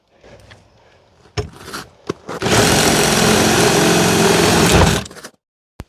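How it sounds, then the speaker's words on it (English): A few knocks and clicks, then a loud power drill whirs continuously for about three seconds, drilling out a Schlage E-lock, before stopping abruptly. "I'm drilling this thing out."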